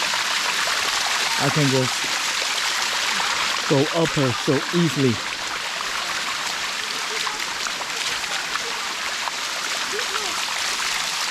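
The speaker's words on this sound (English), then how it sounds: "It is so good with all the water falling down" Water from the Sticky Waterfall in Thailand spills and rushes constantly close by, a loud hissing wash, while a person speaks briefly over it.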